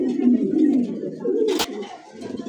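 A satin pigeon kept for sale coos close by in soft, low, rolling throbs with a brief rustle midway, and faint talk may sit underneath.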